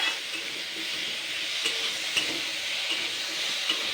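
Pumpkin pieces with spices frying in a pan, a constant airy sizzle with occasional soft stirring taps, close and moderately loud, no talking.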